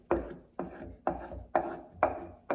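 An inshave's cutting edge drawn across a flat leather strop, making five even rasping strokes about half a second apart, each a sharp rub that trails off, close and fairly quiet.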